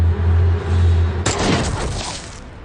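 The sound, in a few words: gunshots in a Japanese film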